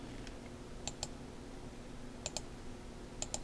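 Three pairs of quick mouse double-clicks on a computer mouse, used while editing a Photoshop collage template, sharp and close over a low steady hum, with no talking.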